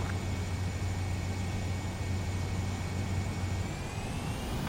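ADF-11F jet engine in Ace Combat 7, a steady loud roaring whoosh with a constant low hum and faint high whine, continuous throughout with no break.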